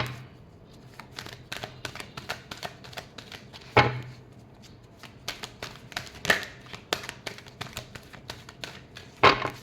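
Tarot cards being shuffled by hand, a quick run of soft papery riffles and taps with a few sharper slaps, close and fairly quiet, no talking.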